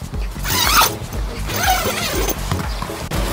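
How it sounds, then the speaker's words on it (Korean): A sleeping bag zipper, on a budget bag made for sleeping in a car, is pulled open in a long continuous rasping run with uneven surges, close and fairly loud, with faint handling noise around it. "자, 그리고 지퍼를 쭉 한번 열어보면요"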